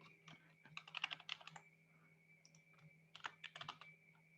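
Patient data being typed on a computer keyboard, with quiet, close key clicks in short bursts separated by pauses, over a low steady electrical hum; no talking.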